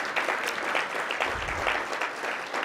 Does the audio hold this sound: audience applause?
yes